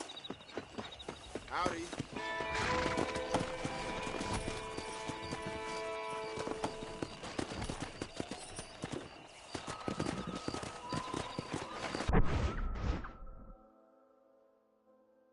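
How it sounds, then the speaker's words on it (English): Horse hooves clip-clopping in the Red Dead Redemption video game, rhythmic hoofbeats with occasional whinnies under game music and a brief spoken greeting, ending abruptly in near silence. "Let's see if we can't wrangle some horses."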